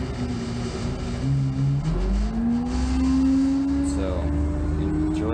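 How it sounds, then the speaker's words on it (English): An Orion VII CNG city bus engine running rough and worn while riding on Route 54, a steady low drone with whining tones that rise and fall as it accelerates, heard from inside the cabin. "This one sounds like it's dying, so it's probably gonna be retired soon, like the rest of the Orion 7s"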